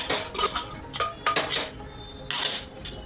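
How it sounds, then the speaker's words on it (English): A metal pressure cooker lid is worked loose and lifted after cooking moong, several clanks and metallic scrapes of steel against steel close by, ending in a bright ringing clink. "Once the pressure of the cooker is released completely, we'll open the lid"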